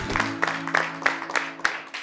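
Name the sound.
audience applause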